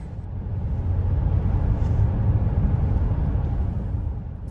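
A 2021 Mercedes-Benz GLC 300 4Matic SUV with a small-displacement engine is driving, a steady low rumble of engine and road noise heard from inside the cabin.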